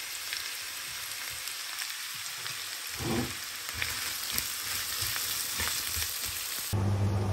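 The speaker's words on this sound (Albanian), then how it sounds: "vaj është nxehur, i hedhim edhe qepë e grira" Chopped onions dropped into hot oil, a steady close crackling sizzle with a brief louder burst as they hit the pan, no talking.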